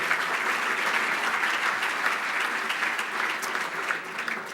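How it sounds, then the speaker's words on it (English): Audience applause at a State of the County address, a dense, sustained clapping from a large indoor crowd that holds steady throughout. "let's give a round of applause for our local sources"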